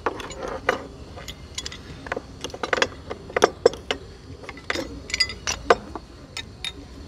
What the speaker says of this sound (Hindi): ये 18 इंच रिंच है और इस पर शुरू करते हैं दोस्तों से टाइट करना